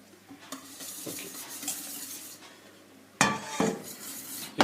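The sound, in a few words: stirring pastry cream in a saucepan on the stove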